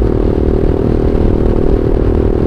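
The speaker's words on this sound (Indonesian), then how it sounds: "kalau kita gas ya, kita gas di RPM 6000 ke atas" A Honda CBR 150R Facelift motorcycle engine runs loud and close with a dense, steady, buzzing rumble held at high revs, with no pauses.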